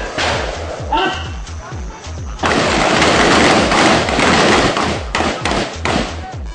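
Gunfire at a shooting range: a rapid string of sharp, loud, close shots in a rhythmic series while someone shouts commands over them.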